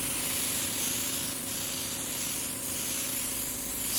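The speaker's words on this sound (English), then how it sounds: "This is spraying the clear with the flake in it." A spray gun lays clear coat mixed with paint flake onto a Yozma motorcycle, giving a steady, close hiss that runs unbroken and alone.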